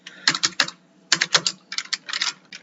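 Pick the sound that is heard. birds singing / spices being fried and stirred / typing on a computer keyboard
typing on a computer keyboard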